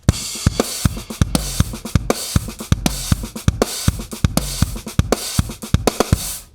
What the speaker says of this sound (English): the first groove that I'm playing is a classic Spanish groove